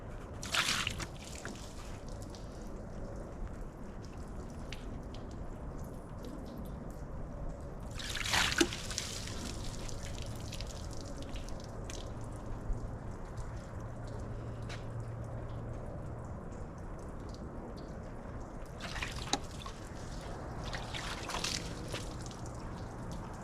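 Water drips and trickles off a ceramic-coated car surface in quiet, scattered patters and small splashes, with a few louder sloshing bursts over a low background hum.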